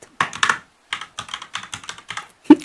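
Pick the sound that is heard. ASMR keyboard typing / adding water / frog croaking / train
ASMR keyboard typing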